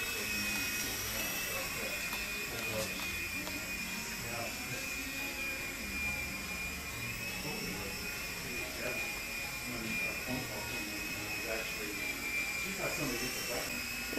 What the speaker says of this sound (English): I bet your mom doesn't let you fly helicopters in the house.